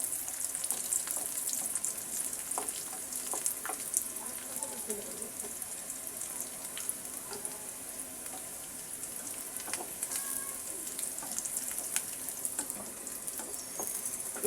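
Dried red chili hits hot oil with already-fried onion while cooking lentil dal with bottle gourd, giving a steady soft sizzle and crackle that runs throughout at moderate loudness.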